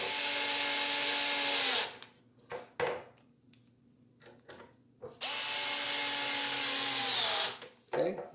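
A power screwdriver driving screws into a soft-close kitchen cabinet hinge, two loud whirring runs of about two seconds each that wind down at the end, separated by a quieter pause with handling clicks.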